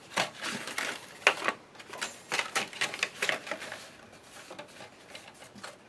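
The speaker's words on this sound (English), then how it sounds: "And I'm going to cut the lines." A paper trimmer slicing cut lines on a Halloween treat bag, a close series of quick, crisp scraping strokes in uneven bursts, with no talk.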